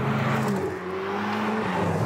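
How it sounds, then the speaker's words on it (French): Ferrari 488 Pista Spider (2019) turbocharged engine pulling hard under acceleration, a steady loud tonal drone with rising harmonics heard close and alone, with no talking. "C'est un moteur qui est très vif mais qui reste souple"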